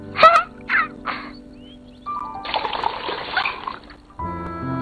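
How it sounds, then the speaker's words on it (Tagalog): Water poured onto a leaf, a few short splashes followed by a longer bright splattering pour, in a quiet animated scene with soft background tones. "Nilagyan ko po ng tubig para hindi matuyo."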